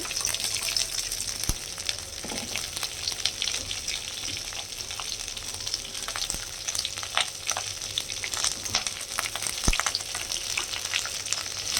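Small onions, ginger and garlic sauté in a pan while cooking a goat head curry, producing a continuous close sizzle with occasional stirring clinks and a brief watery splash, no talking.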